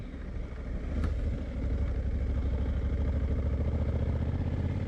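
A Honda Africa Twin DCT motorcycle heads off-road downhill, its engine a steady close rumble with a pulsing low throb and faint clatter throughout.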